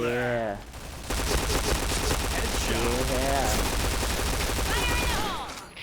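Rapid bursts of P90 gunfire and explosions in a video game, dense and continuous, with excited voices talking over the shooting.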